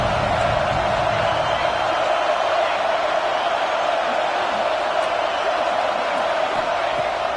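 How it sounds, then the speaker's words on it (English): A football video game stadium crowd produces a steady, dense roar of cheering and noise, loud and unbroken throughout with no clear individual voices. "This crowd bringing the energy and noise early."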